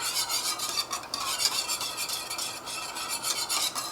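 A spoon stirs a cornstarch or arrowroot slurry into a simmering sauce, a close and continuous rhythmic scraping with a light sizzle underneath and no talking.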